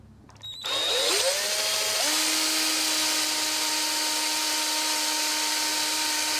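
A power drill bores a 4.2mm pilot hole in metal for an M5 tapping size, part of making a lathe slotter belt guard; after a brief start the motor settles into a loud, steady whine with sustained tones, and no voices are heard.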